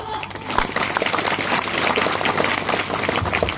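Audience at a Marathi kirtan devotional gathering clapping hands, a dense continuous patter of many claps with crowd murmur throughout.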